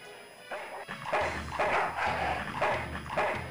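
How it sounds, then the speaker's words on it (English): A dog in the Full Throttle adventure game barks repeatedly in sharp, evenly spaced bursts, close and fairly loud. "Bad dog."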